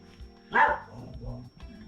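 A single short dog bark sounds nearby against a quiet background.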